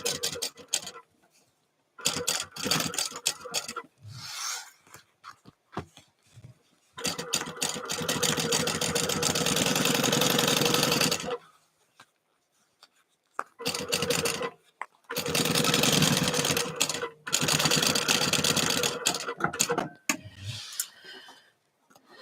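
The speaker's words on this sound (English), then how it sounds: "Those need to be sewn down, not just basted." A sewing machine stitches a bottle sling in several long bursts of steady whirring, near and fairly loud, broken by pauses and brief handling noises between runs.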